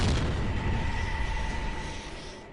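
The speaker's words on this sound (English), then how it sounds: "Suddenly, there's a flash and a loud bang." A loud boom from an explosion on an aircraft carrier flight deck beside Skyhawk jets, a heavy low blast that rumbles and slowly fades over a couple of seconds.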